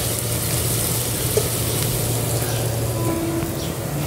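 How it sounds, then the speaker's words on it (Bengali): Mixed vegetables with capsicum and salt fry in a pan over a clay stove on a rooftop, giving a steady, even sizzle and hiss throughout with a few faint clicks. "সবজি ভাজা হয়ে গেছে"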